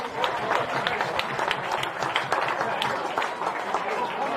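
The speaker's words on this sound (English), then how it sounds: "this bumper home crowd at Barton Park are on their feet" A big home football crowd at Barton Park cheers and applauds a goal by St George, a dense wash of clapping and roaring, with a commentator talking over it.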